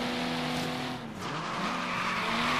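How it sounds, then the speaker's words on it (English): A car drifting in the Forza Horizon 3 racing game with the Hot Wheels expansion, a steady loud tire squeal over a continuous engine drone, briefly dipping midway, with no talk. "Oh, that drift."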